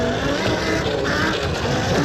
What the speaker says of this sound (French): on va essayer cette petite moto en conditions réelles